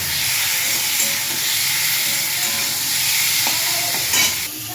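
Whole spices sizzling and frying in a pan for an egg curry with papaya, a steady, close hiss of hot oil with occasional scraping stirs, no talk.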